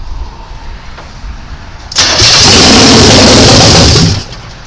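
A 1985 Chevy C10 pickup truck's engine starts abruptly after a quiet stretch, catching at once and running loud and steady at a fast idle for a couple of seconds before it drops away.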